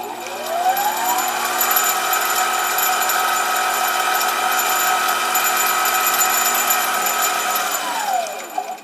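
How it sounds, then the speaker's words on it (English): A steady high whine of a mini lathe center drill boring a starter hole into metal with cutting oil, with a rising tone at the start and falling tone at the end, running continuously for several seconds. "So I've got the center drill in position, put a few drops of cutting oil on it."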